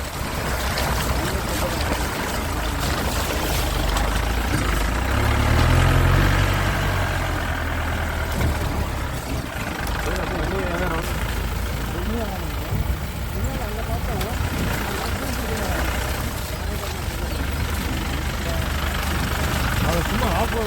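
An off-road vehicle engine idles in a jungle setting, a steady low rumble running throughout with a brief swell in the middle, while people talk over it.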